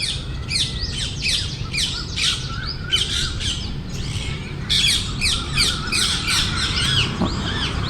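Harsh, repeated squawks from parrots ring out in quick bursts, fairly close and loud over a low outdoor rumble, with a brief lull midway, at Aaji Dam in Rajkot.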